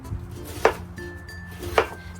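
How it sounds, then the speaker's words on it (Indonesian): Cabbage being sliced thinly with a knife, about 1 cm strips, for a ribs and vegetable stir-fry: two crisp, separate chops on a board about a second apart, close and clear against quiet kitchen background. "Lalu ada kol yang kita potong tipis sekitar 1 cm."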